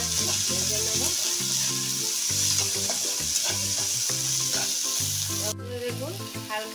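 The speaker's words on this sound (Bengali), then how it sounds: "মটরশুঁটি আর কাঁচা লঙ্কা। এটাও হালকা ভেজে নেব।" Peas and green chilies lightly fry in a pan, a loud, steady oily sizzle that fills the whole moment, with brief stirring shuffles on top.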